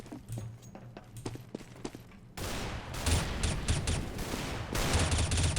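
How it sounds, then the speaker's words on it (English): Counter-Strike gunfire during a competitive match, with a scatter of sharp shots and quick bursts over footsteps and steady game ambience. "And shooting by Apex again."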